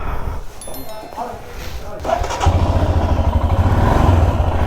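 A motorcycle's engine starts up and settles into a steady, close, throbbing idle as riders set off on a bike trip from Delhi toward Narkanda. It follows some clattering, and people talk over it.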